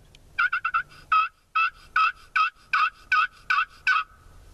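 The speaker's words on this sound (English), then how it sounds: "These are the Kid Magic game calls. It's a Slate." A Kid Magic slate turkey call worked during an archery turkey hunt produces a rapid series of nine or ten sharp, close yelps, quick at first and then more evenly spaced, loud and clear with no talking over them.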